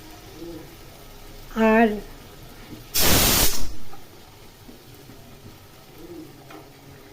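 Hilsa fish pieces dropped into hot oil give a sudden loud, hissing sizzle that flares for about a second, then settles to a faint background fry, with a brief voice just before.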